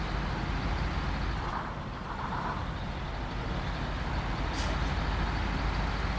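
A heavy truck drives in SnowRunner, a steady loud engine drone and road rumble running continuously, with a brief air-brake-like hiss near the end.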